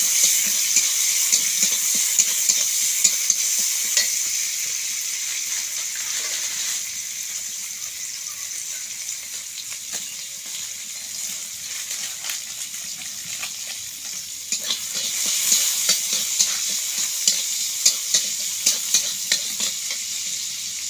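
Soybean mince with chopped onion and tomato frying in a pan, a continuous close sizzle broken by frequent scraping stirs and clacks that grow busier near the end.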